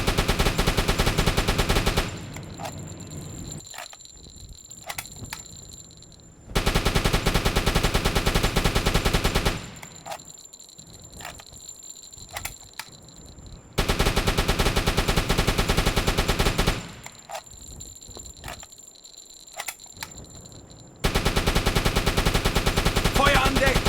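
A Type VIIC U-boat's deck gun fires on an oil installation in a 1941 submarine video game. Three loud sustained bursts of rapid fire are separated by quieter stretches of ambient sound and faint booms.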